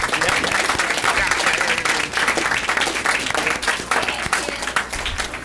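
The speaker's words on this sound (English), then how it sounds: "could we give them one more round of applause?" A school board meeting audience applauds loudly and continuously, a thick crowd of close and distant clapping with individual sharp claps popping out and faint murmuring mixed in.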